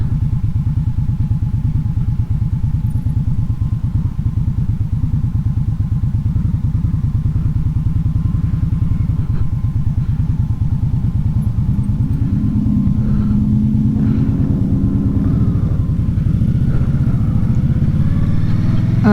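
A 2018 Indian Scout Bobber motorcycle riding to work, its engine giving a loud, continuous low rumble with pulsing exhaust throb heard from the rider's position, shifting in pitch partway through as the bike changes speed.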